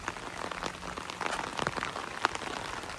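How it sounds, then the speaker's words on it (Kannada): Heavy rain pours steadily on surfaces at a construction site with fresh plaster, a dense, even patter with scattered louder drops and no talking. "ಮಳೆ ಜೋರು ಸಿಕ್ಕಾಪಟ್ಟೆ ಐತಿ"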